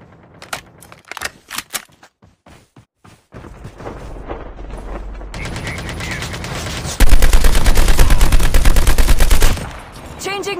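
Gunfire in the Call of Duty Mobile Alcatraz map, beginning as scattered loud single shots and building into sustained, dense automatic bursts that stay constant and very loud.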